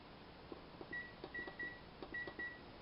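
Several short beeps from an oven timer being set, keyed in pairs at an even pace while a Cornish game hen roasts at 350 degrees, heard fairly close against soft kitchen background noise with no talking.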